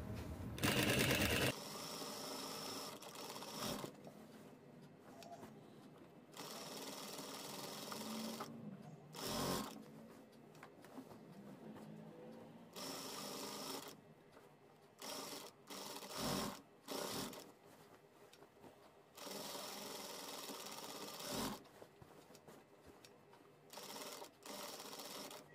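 A sewing machine stitches pleats into a salwar in several loud bursts of rapid mechanical whirring, separated by quieter pauses where the fabric is repositioned, heard up close.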